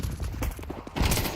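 Rapid M4 rifle and pistol shots from a Counter-Strike match, a quick cluster of sharp gunfire bursts heard close and loud over a very short span.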